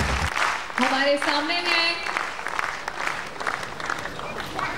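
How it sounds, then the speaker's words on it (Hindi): Applause from an audience at a Safe Shop award ceremony, a loud dense patter of clapping that continues steadily while someone speaks over it on a microphone. "जोरदार तालियां"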